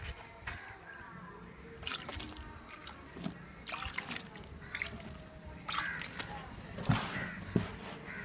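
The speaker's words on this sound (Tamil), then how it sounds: "ட்ரேவை எடுத்துகிட்டு அதில் வந்து தண்ணி மிக்ஸ் பண்ணி இப்போ கலக்க போகிறேன்." Sambrani powder being mixed with water by hand in a tray, soft wet squelches, drips and slaps in irregular bursts, close and quiet.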